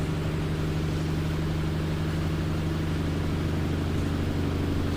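An LG Smart Inverter washing machine in spin mode gives a continuous motor drone with a strong low hum that stays even throughout, the steady whir of a machine spinning at speed.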